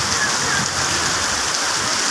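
Steady rain falls on an afternoon in Iligan, a continuous broadband hiss and patter of drops on surfaces, even and unbroken throughout with no voices.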